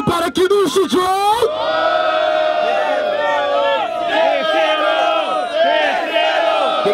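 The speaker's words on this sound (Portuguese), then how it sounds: "Mão pro alto e barulho para Kinushi e John" Crowd at a São Gonçalo rap battle, the Batalha do Tanque, shouting and cheering loudly in a sustained roar of many voices, opening with sharp noisy bursts before settling into continuous whooping and yelling.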